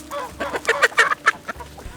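Several chickens cluck in a quick, busy series of close, moderately loud calls on an Australian homestead, with short pauses between bursts.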